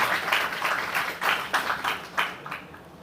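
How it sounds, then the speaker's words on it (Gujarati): An audience applauds to welcome two speakers at a talk event, the clapping rising and falling in waves and fading toward the end. "તાળીઓના ગડગડાટથી આ બંને વક્તાઓને આપણે વધાવી લઈશું"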